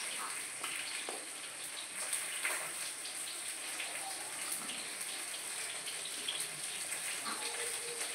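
Cut raw bananas being washed in salt water, a soft, steady splashing and patter of water in a kitchen, faint and continuous.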